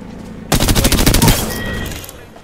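Automatic weapon fire in Apex Legends, a loud rapid burst of about a dozen close shots lasting under a second, then a ringing decaying tail.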